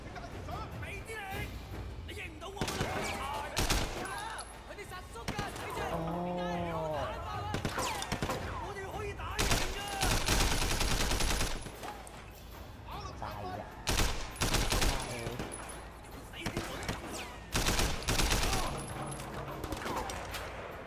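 Rapid bursts of gunfire crackle through a shootout in the video game Sleeping Dogs, dense volleys and single shots layered over game effects and a talking voice, loud and nearly continuous.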